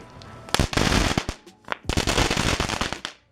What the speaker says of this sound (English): last for the novelties is some good old Crackling Balls.